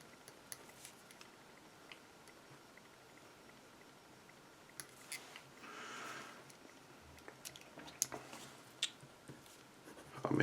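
Pen scratching on paper in a quiet room, faint scattered strokes and taps with a brief louder rustle near the middle, no voices.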